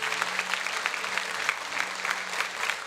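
A church congregation applauds during a Catholic Mass, with brisk, even clapping from many hands that stays steady and fairly close throughout.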